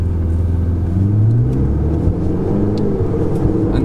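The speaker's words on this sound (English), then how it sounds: "Oh, there's a downshift." A Ferrari 488 supercar engine rumbles close by as the car downshifts, its low growl briefly rising in pitch and then settling into a steady drone, with no one talking.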